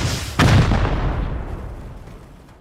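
A shotgun trap in a survival video game fires once, a single loud close blast with a booming tail that fades away over a couple of seconds.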